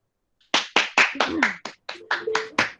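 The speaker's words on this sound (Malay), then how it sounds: "Tepuk tangan dulu. Tepuk dulu." About ten sharp, separate hand claps come in a loose, uneven rhythm after a brief silence, close and fairly loud, with a voice sounding faintly over some of them.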